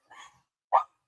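A dog gives two short barks close by, a softer yap followed by a louder sharp bark after a brief pause, with no talking in between.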